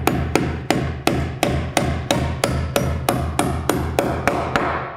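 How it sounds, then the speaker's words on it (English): Nails hammered through sub fascia into roof rafters: a rapid, steady series of about fifteen sharp, ringing hammer blows, close and loud, with no talk. "we're gonna end up putting 3 nails in each rafter"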